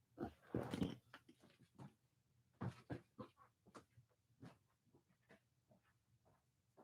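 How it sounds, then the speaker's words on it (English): A small pet dog being let in from outside at home gives a few loud, close yelps and whimpering noises at the start, followed by scattered softer scuffles, pants and movement sounds. "I gotta let my dog in, man."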